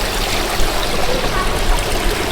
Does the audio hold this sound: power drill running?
no